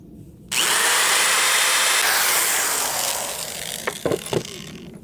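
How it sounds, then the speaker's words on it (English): A power drill bores two pilot holes into a wooden leg of a homemade three-tier plant stand, a loud continuous whine that starts abruptly and slowly winds down, followed by a few sharp knocks. "I'm going to drill 2 pilot holes."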